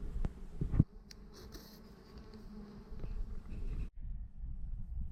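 Bees buzz steadily around a beehive entrance as they move in and out, a close, continuous insect drone with a few brief knocks near the start.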